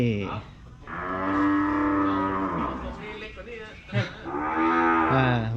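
A big Brahman bull gives a long, loud, close moo that swells and holds, then breaks off briefly before a second drawn-out moo.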